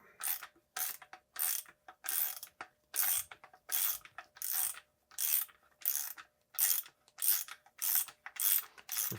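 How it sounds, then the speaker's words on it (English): A RockShox Pike suspension fork's fine-threaded top cap is turned off with a ratchet, producing about a dozen evenly spaced bursts of fast ratcheting clicks separated by short pauses, close up and without talk. "And we're going to unscrew the top cap."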